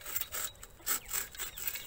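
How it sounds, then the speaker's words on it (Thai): A hand saw rasps back and forth through a leucaena tree in quick, uneven strokes, scratchy and fairly faint, with no voices. "ผมกำลังใช้เลื่อยตัดต้นกฐิน"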